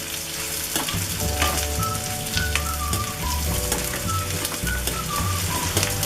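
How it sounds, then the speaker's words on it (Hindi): Onion frying with garlic in a pan for bhindi: a loud, dense crackling sizzle throughout, with occasional stirring scrapes and faint tonal squeaks, heard alone. "लहसुन हल्का भुन गया है, अब इसमें ये प्याज डाल देंगे।"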